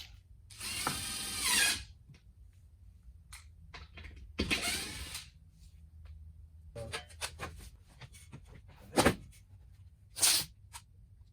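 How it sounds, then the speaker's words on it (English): A power drill drives a screw into the wall while a Mr. Cool DIY unit is being installed, in several short whirring bursts separated by quiet pauses, close by with no talking. "Drive a screw right down the middle section here so that I can locate where I'm going to hang this guy."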